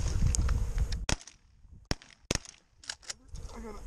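Several sharp shotgun blasts ring out during a goose hunt, spaced irregularly and fairly close, with people talking between the shots.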